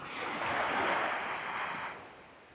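Sea waves washing onto the shore: a steady, close rushing surf swelling and then fading away, with some wind noise and no voices.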